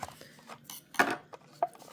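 A knife scrapes and slices through the plastic and cardboard packaging of a Hot Wheels 1996 Nissan 180SX Type X toy car, producing short, close crinkling cuts and sharp rustles in quick bursts.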